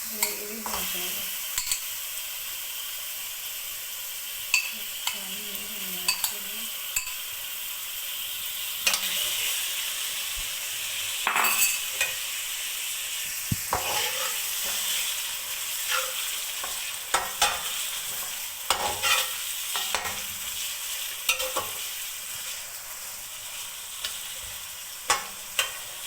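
Chicken and garlic fry in a pan, a steady hiss of sizzling oil continuing throughout, broken by frequent scraping and clinking strokes of a stirring utensil.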